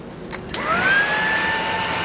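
Cordless stick vacuum switched on at its lowest of three power modes, a rising whine settling into a steady mid-pitched motor hum after a couple of clicks, close and continuous with no talking.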